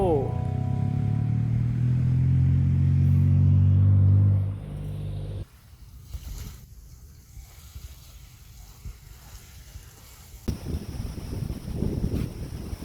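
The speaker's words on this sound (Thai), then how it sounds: "ลมหนักมาก" Heavy coastal wind at Ao Manao bay, Prachuap Khiri Khan, buffets the microphone in loud rumbling gusts, then drops to a quieter rustling background with some shifting noise.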